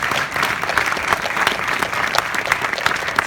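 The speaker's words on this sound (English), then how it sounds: "let's give a great round of applause to Eddie Brown" A DOC NYC premiere Q&A crowd applauds warmly, a full, close wash of many hands clapping steadily for several seconds with scattered sharper claps and no talking over it.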